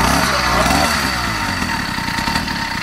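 A tuned 70cc two-stroke engine on a motorized bicycle runs steadily and close by, a continuous buzzing drone that holds level loudness throughout.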